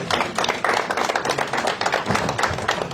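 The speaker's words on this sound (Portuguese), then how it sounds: "Palmas para o Diniz, né?" An audience at a Podemos party election-results presentation claps for Diniz, a lively, uneven burst of handclaps close by with irregular peaks throughout.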